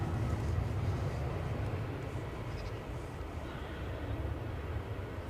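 A British Airways airliner takes off from Edinburgh Airport in 40 mph winds, a steady broadband roar with heavy low rumble and wind buffeting that holds fairly constant throughout, with no clear voices.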